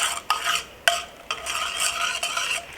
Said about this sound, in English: We'll stir it a little, just to help it to cook evenly